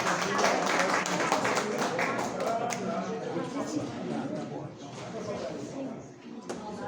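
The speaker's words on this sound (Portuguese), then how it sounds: "Por gentileza, uma salva de palmas para o nosso palestrante." An audience gives a round of applause to a lecturer at a historical institute event, starting as loud dense clapping that thins and fades over several seconds, with voices murmuring underneath.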